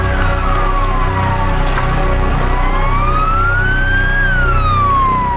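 Emergency sirens from ambulances and rescue vans after an earthquake in Turkey wail loudly and close by, a sweeping tone that rises and falls over a steady vehicle rumble.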